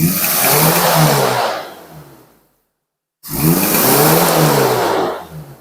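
Daihatsu Feroza engine freshly cleaned of carbon deposits, revved twice in quick blips: a loud rising roar, a sudden cut to silence, then a second equally strong rev that tails off, recorded close.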